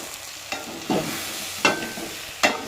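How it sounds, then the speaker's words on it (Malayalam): Tomatoes sauté in a pan for a Kerala-style fish curry, a soft continuous sizzle broken by three or four distinct scraping stirs of a spoon, close and fairly quiet. "അതിലോട്ട് നമുക്ക് തക്കാളി ഇട്ടിട്ട് നന്നായിട്ടൊന്ന് വതക്കിയെടുക്കാം"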